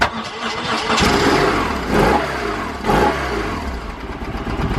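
A 1993–2001 BMW R1100GS motorcycle engine cranks and catches, revs briefly a couple of times, then settles into a loud, steady, rumbling idle just over 1,000 RPM, close by.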